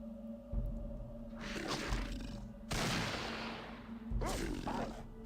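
Gunfire from a teammate's weapon in Fallout 1, several loud broadband bursts landing in quick succession against a low droning game hum, with short gaps between the shots.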